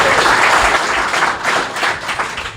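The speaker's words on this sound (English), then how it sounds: "This might be a good time to give a big round of applause and welcome, our main guest here today," Live podcast audience in London gives a loud, sustained round of applause to welcome a guest, dense clapping filling the room without pause.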